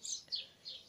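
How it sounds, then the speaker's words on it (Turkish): Three quick high chirps from a small bird, faint and a little distant, evenly spaced in a quiet outdoor village setting. "Arkada bir kuş sesleri geliyor olabilir."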